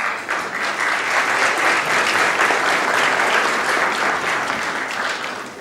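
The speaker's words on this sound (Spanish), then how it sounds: "gracias por el aplauso" An audience at a public health forum on obesity and eating disorders applauds after a doctor is introduced, a sustained wash of many hands clapping, close and full, holding steady for several seconds before easing slightly at the end.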